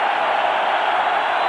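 A stadium crowd at a college football game, Miami at Colorado, roars in a steady, dense wash of cheering and noise, loud and continuous for the whole moment.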